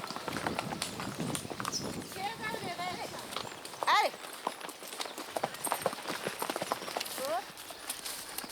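Horse hooves clip-clop as riders travel on horseback up toward a waterfall near a small village in the Greater Antilles, a steady rhythmic plodding heard under ongoing talk.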